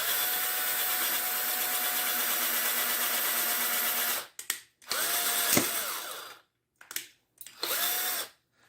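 Power drill boring into a 3D-printed plastic Super Mario statue, a loud, steady whine lasting several seconds, then short stop-start bursts with brief silences between.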